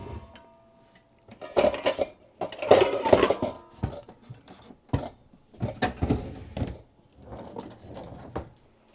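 A bowl is set down and handled in a kitchen while fresh peaches and apricots are prepared for washing, with a series of close, sharp clatters and knocks separated by short pauses.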